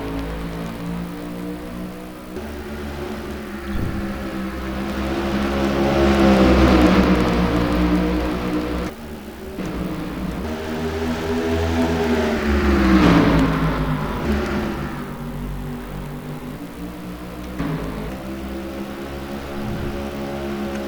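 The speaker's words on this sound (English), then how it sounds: "Green flag racing here at Richmond Raceway" Race trucks thunder around Richmond Raceway at the green flag, engine roar rising and falling in repeated swells as packs pass, loud and continuous with no talk.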